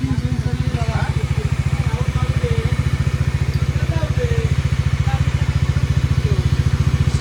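A 2019 Bajaj Dominar UG motorcycle engine idles close by with a steady, rapid low thumping pulse and light mechanical clatter, running evenly throughout.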